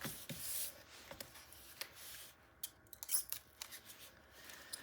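Scissors snip through craft paper while trimming pages for a 9 x 9 Stamperia Voyages Fantastique scrapbook album, several close, crisp cuts in quick succession with no talking.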